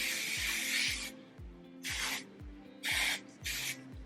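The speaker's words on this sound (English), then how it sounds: "go in with the Kenra Dry Texture Spray" Four bursts of hissing aerosol Kenra Dry Texture Spray onto hair, close and loud, with short pauses between them over a low mechanical hum.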